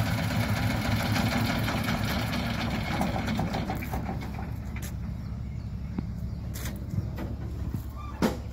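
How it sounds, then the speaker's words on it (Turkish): A wheel loader's engine running steadily at a heavy machinery training course in Çaycuma, a close, throbbing idle with faint bird calls and a few clanks. "Bu da loader kepçe."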